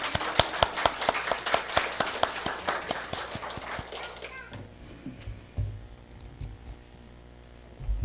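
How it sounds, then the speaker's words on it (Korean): A church congregation claps during a worship service, a brisk patter of many hands lasting about four seconds before dying away into quieter room sound, with scattered voices. "우리 교우를 위해서 우리 박수 한번 드리시죠"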